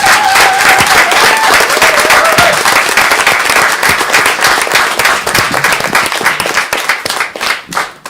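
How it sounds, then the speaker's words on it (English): A city council meeting audience loudly applauds the presentation of a proclamation, close, crisp clapping that stays dense before thinning into scattered claps at the end, with faint voices underneath. "I do want to thank everyone for the round of applause you've given me."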